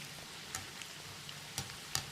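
Chicken pieces deep-frying in plenty of oil for restaurant-style Chicken Monica: a steady soft sizzle with scattered sharp pops and crackles.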